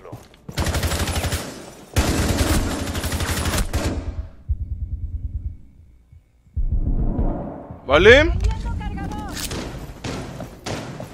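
Bursts of rapid automatic gunfire and heavy thuds from the shooter game Rainbow Six Siege, loud and dense in long volleys, then a pause and further shots and clatter, with someone briefly talking over the action.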